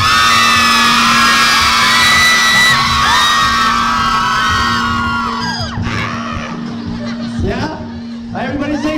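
A crowd of college girls at a Glitz event shrieks and cheers loudly with high overlapping yells, fading briefly after about six seconds, then bursting into shouts again.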